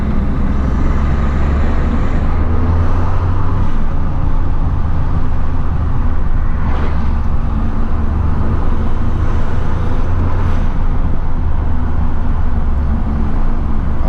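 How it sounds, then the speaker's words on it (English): A Ford F-150 EcoBoost truck with an aFe intake and an off-the-shelf SCT tune, its engine making a loud, steady, continuous drone with faint higher turbo whooshes above it, close to the listener, without talk. "Those turbo noises are addicting."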